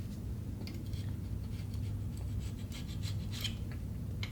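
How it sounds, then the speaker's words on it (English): Short scraping strokes of a razor-sharp hand scraper flattening a gasket surface on a Gen 3 Hemi engine block in a 1966 Plymouth B-body, light rasping scratches repeating close up with brief gaps. "This little scraper I keep sharp is pretty much a razor blade."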